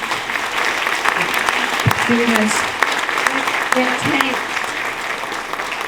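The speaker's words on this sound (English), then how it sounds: "Give her a round of applause." An audience at a luncheon applauds, a sustained wash of clapping that runs through the whole stretch while a speaker's voice talks over it.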